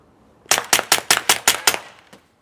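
A gun fires rapidly to empty the rest of a magazine: about eight sharp, loud, evenly spaced shots in quick succession, then one last shot after a short pause, with no talking.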